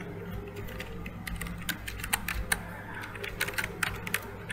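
Quick keystrokes on a computer keyboard as Linux commands are typed, a run of sharp clicks with a few stronger key presses, heard alone against a quiet background.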